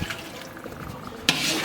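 Water with ground cashew paste is poured into a simmering chicken curry, a soft steady trickle that ends in a brief louder splash near the close.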